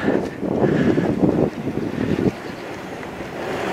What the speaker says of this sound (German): Das Wasserrauschen kommt leider hier von einem Gully.